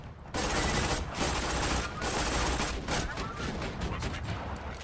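A turret in Borderlands 2 fires continuously, a loud rapid stream of shots starting abruptly and holding steady for several seconds, with a voice faintly under the clatter.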